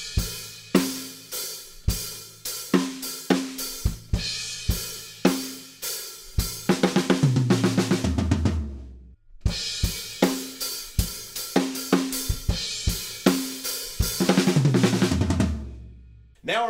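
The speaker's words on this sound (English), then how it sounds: "we have a fill that goes like this." A rock drum beat plays loud and alone, steady kick, snare and cymbal hits, twice building into a dense fill of rapid tom strokes that descend before a brief cut and the groove resumes.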